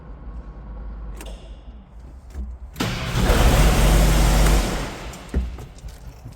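A New Holland T5070 tractor engine cranks briefly, then catches with a loud roar that settles and fades, heard close up with no talking.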